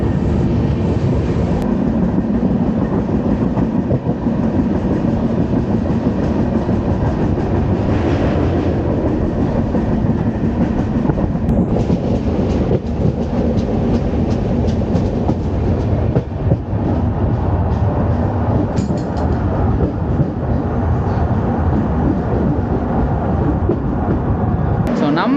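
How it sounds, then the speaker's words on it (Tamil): A Kochuveli–Yesvantpur AC superfast express running at high speed, heard from on board as a loud, continuous rumble and roar with clattering over the rails throughout. "ஸோ இப்போ செம ஸ்பீடில் வந்து காயக்குளம் கிளம்பியாச்சு."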